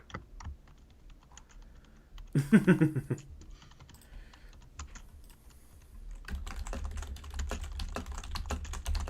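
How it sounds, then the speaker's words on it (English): Two people typing on computer keyboards: sparse clicking at first, a brief louder burst, then steady, dense, quick keystrokes near the end, with a short spoken word at one point. "It's just both of us typing at this point."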